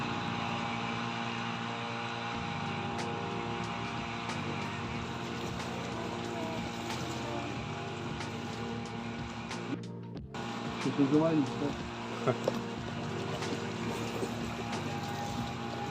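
A boat's outboard motor, mounted high, drones steadily from start to finish on a canal, with brief louder bumps near the end.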